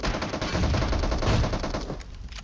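Sustained rapid gunfire from PUBG Mobile, dense overlapping automatic bursts, loud and continuous throughout with no talking.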